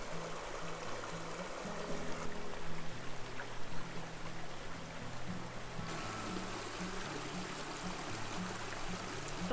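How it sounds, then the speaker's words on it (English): A tiny waterfall in a moss-lined creek on a canyon hike in Santa Clarita, California gives a steady, close trickling and splashing flow that continues unbroken throughout. "There's even like a tiny waterfall"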